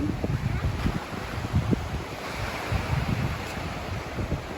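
Sea waves wash in at a beach at high tide, with rumbling surf and heavy wind buffeting the microphone as one continuous, loud, close roar.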